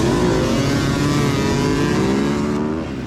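Four-stroke dirt bike engines roar together at a motocross race start, a loud sustained drone with rising revs from several bikes at once, continuous and close throughout.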